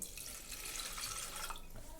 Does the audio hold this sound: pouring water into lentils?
yes